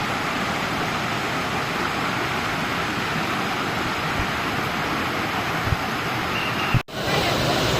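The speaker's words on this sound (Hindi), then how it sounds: "ये है अदराई वाटरफॉल" The Adrai waterfall in a jungle near Harishchandragad fort roars as a dense, constant rush of falling water, loud and close, with no one speaking.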